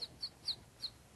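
A person imitates a bird, making four short, high chirps spaced evenly about a quarter second apart, close and fairly soft against a quiet background.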